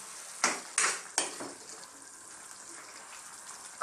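Sautéed cabbage, pork and carrots are stirred in a hot pan: three sharp scraping strokes come close together at the start, then a quieter steady sizzle continues alone.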